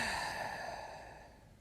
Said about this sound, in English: And deep breath out.